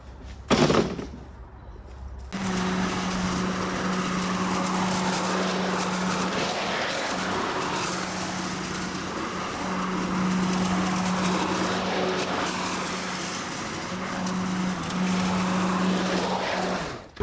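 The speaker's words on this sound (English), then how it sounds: "Bagging test time. This is the uh, 40 volt Makita um, self-propelled mower." Makita 40-volt self-propelled lawn mower with four swing-back blades mowing and bagging grass, a steady close motor whir and blade hum running continuously after a brief quieter start, with no talking.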